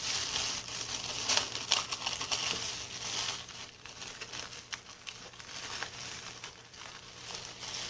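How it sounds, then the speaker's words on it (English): Scissors trimming the plastic edge of a wall planter lining, close crinkling and snipping crackles running continuously with no voices. "I'm going to take my scissors and I'm going to cut at the edge of the plastic"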